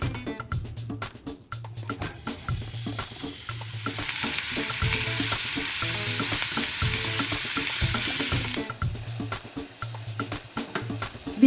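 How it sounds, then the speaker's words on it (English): Ground beef sizzles and fries in a medium pan over high heat for taco filling, a steady crackling hiss with stirring scrapes that swells louder in the middle before easing back, no voices. "In the medium pan over high heat, cook the ground beef."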